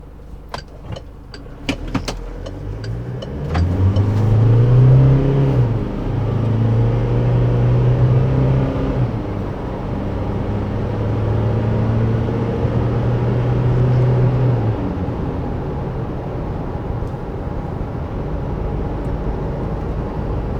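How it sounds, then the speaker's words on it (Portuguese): A Chevrolet S10 Turbo Diesel 4x4 pickup accelerates along a road, its engine drone rising steadily in pitch for about ten seconds after a few clicks, then settling into a steady road roar. "Com certeza fica muito claro quão facilmente a S10 Turbo Diesel ganha velocidade"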